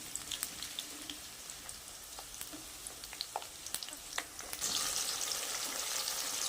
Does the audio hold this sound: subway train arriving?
no